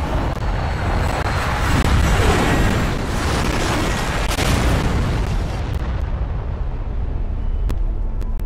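A huge explosion goes off after an ignition countdown in the video game Dying Light, a loud, sustained roaring blast that fills the whole stretch, followed by crackling debris and a few sharp pops as it slowly thins out.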